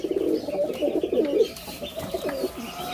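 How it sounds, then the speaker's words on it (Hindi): Several pigeons cooing close by, overlapping soft throaty calls in a continuous murmuring rhythm, with no talking. "हमारा कबूतर इतनी दूर से वापस आ गया और वो आते सारी लड़ना शुरू हो गए"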